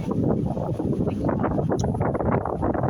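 Strong wind buffeting by a choppy sea, a continuous loud rushing roar heavy in the low end, unbroken and close throughout.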